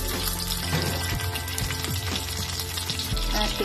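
Pork liver frying in hot oil in a pan, a loud, continuous sizzle and crackle close up, with occasional clinks of a utensil.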